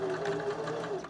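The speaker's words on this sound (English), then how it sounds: "So I'm going to start sewing." A sewing machine runs in a steady continuous hum of rapid stitching, close and clear, as a garment closure is sewn.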